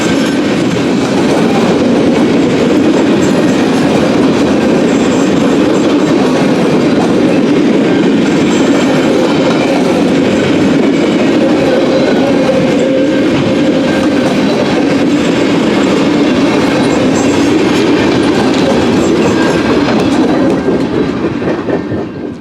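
A freight train of flat cars rumbles past close by in Centralia, Illinois, a loud continuous roll of wheels with a faint clickety-clack, steady throughout with no voices.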